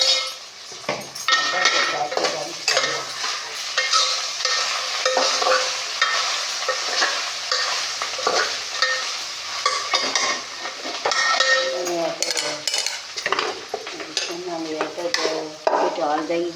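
Idli pieces frying with sambar powder in a pan, stirred with a utensil that scrapes and clinks steadily against the metal over a continuous sizzle, close and moderately loud throughout, with a voice faintly heard in the background.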